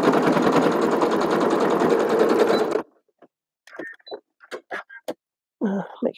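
Sewing machine running a basting stitch, a steady loud whir for nearly three seconds, then stopping; afterward a few short clicks and handling noises follow in near silence.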